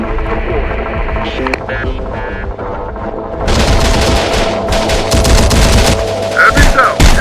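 Sustained automatic gunfire and explosions fill the Terminator Dark Fate Defiance war game, starting after a quieter, mechanical opening and then pounding loud and dense through the rest.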